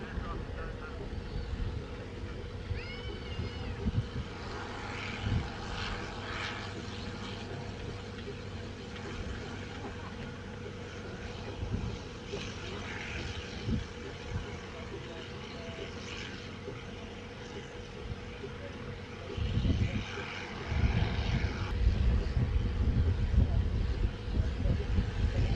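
Royal Aircraft Factory B.2 biplane, a 1912 design, taking off at an airshow, heard as a distant, steady propeller engine drone that swells toward the end, with crowd noise and voices around it.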